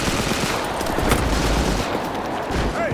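Dense gunfire in the Pacific War game Enlisted during a defense on Gavutu South, rapid overlapping machine-gun bursts and shots forming a continuous loud fusillade with no pauses.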